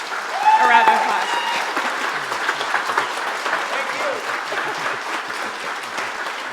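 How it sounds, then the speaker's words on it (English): A crowd claps steadily in sustained applause, loud at first and then settling into an even patter, with a brief voice or cheer near the start. "But let's give Raul and Javier and Renee a round of applause."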